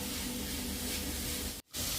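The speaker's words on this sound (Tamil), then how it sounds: "வெங்காயம் தக்காளியை போட்டு எண்ணெய் ஊற்றி நல்லா நிறமாக வதக்கிக்கோங்க" Onions and tomatoes sauté in hot oil with a steady, even sizzling hiss throughout and one brief dropout near the end. No voices.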